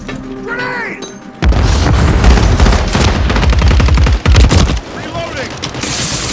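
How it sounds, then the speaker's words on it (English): A grenade blast and gunfire in Call of Duty Modern Warfare 3 multiplayer: a loud, close boom erupts after a quieter moment, followed by rapid shots and a second sharp burst, with brief game voice chatter around it. "Grenade!"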